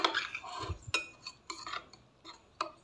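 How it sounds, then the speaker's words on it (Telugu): A soap mix of rice flour, turmeric and gram flour with water being stirred, giving soft scraping clinks of a spoon against a bowl in irregular nearby strokes, with no talk. "బాగా ఇదంతా మిక్స్ అయ్యేటట్టు ఉండలు లేకుండా కలుపుకుని వేసేయాలి."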